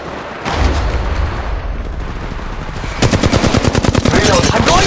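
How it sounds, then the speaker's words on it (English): Gunfire from the Apex Legends Mobile video game, first a dense, steady burst, then a rapid machine-gun rattle of evenly spaced, loud shots during the last two seconds. "They're shooting at me. Give me. Reload. Give my shields a recoil. They're shooting at me. Shots fired at me."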